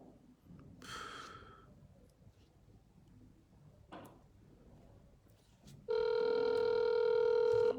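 Over a telephone call, a quiet stretch of breathing and faint rustling gives way to a loud, steady ringback tone that holds for the last couple of seconds while the caller waits for an answer.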